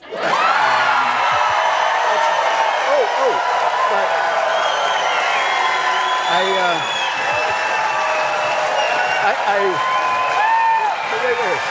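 A studio audience at a live late-night TV taping cheers and chants, a loud continuous roar of clapping, whoops and shouting voices that holds steady throughout.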